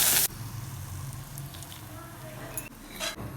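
Onion and cumin tempering poured into banana flower sambar gives a sharp, loud sizzle lasting a fraction of a second, followed by quieter simmering and light clinks of utensils.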